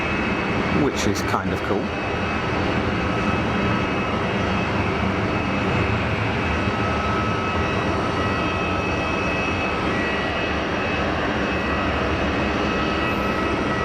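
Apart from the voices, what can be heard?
Airbus A220 jet engines at Geneva Airport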